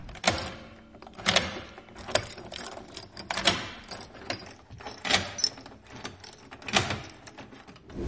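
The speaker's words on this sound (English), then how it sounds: "Each key's metallic sound echoed in the dark, filling the air with an unsettling presence." Metal keys jangle and rattle in a door lock as someone tries one key after another, in roughly six bright, clinking bursts spaced about a second apart, fairly faint with no voices.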